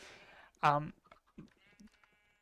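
A sheep bleats in the Minecraft video game on a chicken and sheep farm, one short quavering bleat followed by quieter game sounds, with someone talking softly around it.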